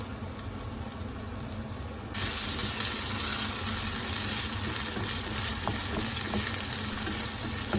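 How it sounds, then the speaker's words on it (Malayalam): Kerala-style pepper chicken being stirred on a high flame, a loud continuous sizzle that swells after a short quieter start, with faint scrapes, no voices. "ഹൈ ഫ്ലെയിമിൽ ഇളക്കി കൊടുത്ത് നന്നായിട്ടൊന്ന് യോജിപ്പിച്ചെടുക്കണം"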